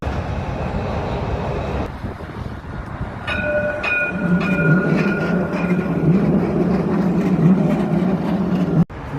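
A Dubai tram rumbles along the track with a low, steady roar, a few bright electronic chimes ringing out over it partway through.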